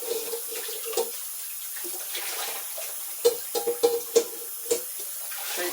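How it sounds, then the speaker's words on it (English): A saucepan rinsed under a running kitchen tap: a soft, steady stream of water with scattered sharp clinks and knocks of the pan against the sink, fairly quiet and close, no talking. "Quick rinse of this saucepan here."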